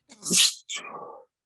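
One close sneeze with a sharp hissing burst, followed by a brief breathy sniffle or murmur, in a quiet room.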